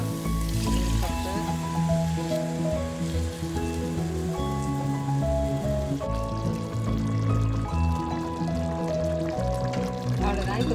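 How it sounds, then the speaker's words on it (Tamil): Rice-soaking water poured into a pot of sautéed mutton biryani base, a steady splashing pour running under continuous background music. "இப்போ நான் வந்து தண்ணி ஊற்றிடுறேன். இது அரிசி ஊற வச்ச தண்ணி தான்."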